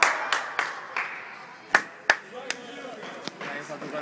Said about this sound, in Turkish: Rakibe alkışlamayın lan.